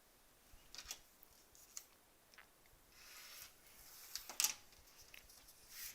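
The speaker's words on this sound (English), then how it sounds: "let's finish trimming this guy up." Scissors snip through paper while trimming a quilt block, a few soft close cuts and rustles scattered across quiet room tone, with one brief louder crisp snip near the end.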